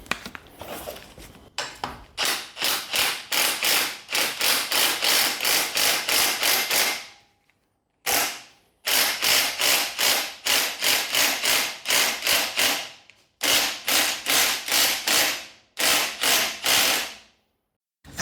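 Repeated metal hammer blows knocking the center bearing off a Toyota Hilux drive shaft, loud rhythmic bursts of rapid strikes separated by short pauses.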